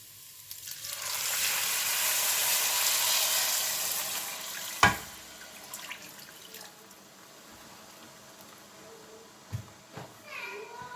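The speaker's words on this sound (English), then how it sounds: "Then I am going to add 3 glasses of water." Water pours into a pot of soaked rice for jeera rice in a sustained rush over a few seconds, followed by a sharp clank and quieter kitchen handling.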